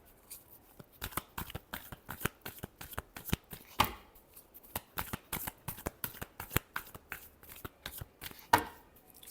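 Tarot cards being shuffled by hand, a rapid run of crisp riffling flicks and soft slaps repeating steadily throughout, close and clear with no talking.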